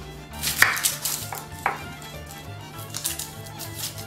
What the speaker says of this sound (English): I'm going to chop my persimmon and my onion